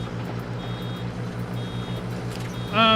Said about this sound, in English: Y'all been hearing that beeping too long.